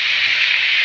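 Mussels dropped into hot masala in a pan, a brief, loud, close hiss of sizzling lasting under a second, with no voices.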